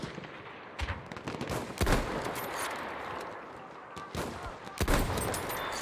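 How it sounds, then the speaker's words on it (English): Enemy machine gun fire in the Battlefield 1 video game, sharp bursts of gunfire cracking out at irregular intervals over a dense, noisy battlefield backdrop, with the loudest bursts near the middle and end. "There, enemy machine gun."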